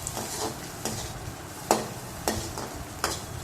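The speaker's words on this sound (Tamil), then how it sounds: "போட்டுட்டு நல்லா மிக்ஸ் பண்ணி விடுங்க, நல்லா கலந்து விடுங்க" Spoon stirring onion with mustard seeds and dried chillies in a pan, with a few sharp scrapes and clinks spaced roughly every half second over a soft, steady frying sizzle, close up with no talking.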